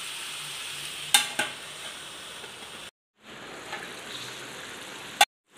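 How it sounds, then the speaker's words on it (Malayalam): Pepper chicken simmers in its own juices in a covered pan over a low flame, giving a steady soft bubbling hiss broken by a couple of sharp clinks and a brief silent gap midway. "ചിക്കനിൽ നിന്ന് വെള്ളമൊക്കെ ഇറങ്ങി നല്ലതുപോലെ തിളച്ച് വന്നിട്ടുണ്ട്"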